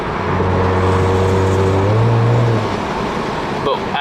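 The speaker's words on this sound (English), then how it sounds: "There, the rattling noise is pretty bad." A car engine with a check engine light on runs steadily under throttle, a low droning hum with a rough, buzzy rattle layered in and rising briefly in pitch before easing off.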